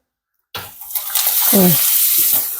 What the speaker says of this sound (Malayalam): എണ്ണ ഇങ്ങനെ തിളച്ചുകൊണ്ടിരിക്കല്ലേ